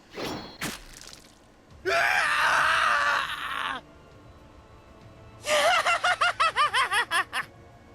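A man's long, loud scream from the video game Hakuoki, then after a short pause a high, screeching laugh in rapid staccato bursts.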